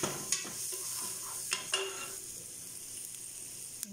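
Red rice browning in an oiled pan as it is stirred, with a steady close sizzle, a few sharp scrapes and knocks of the spoon against the pan, and softer stirring between them.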